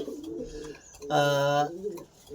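A male racing pigeon coos once, a clear resonant throaty call near the microphone, with quieter bird sounds and faint voices around it.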